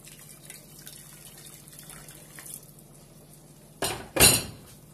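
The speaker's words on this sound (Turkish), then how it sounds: "Şöyle aynı tavaya suyunu koyuyorum." Water poured into a pan of stuffed eggplant with tomato-paste sauce, starting as a brief clatter then a short loud splashing pour near the end, with quiet kitchen background before it.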